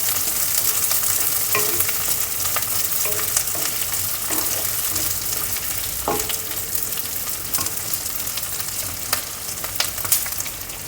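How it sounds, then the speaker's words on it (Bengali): Square-cut capsicum pieces sautéing in a pan for chilli bhetki fish make a steady, close sizzle, with occasional clacks and scrapes from stirring and no talking. "সামান্য একটু সটে করে নেব।"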